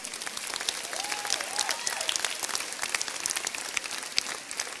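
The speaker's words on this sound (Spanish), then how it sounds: "Un aplauso a las mujeres," A church congregation gives soft, scattered applause, with sparse individual claps at a moderate distance and a brief voice rising faintly within it.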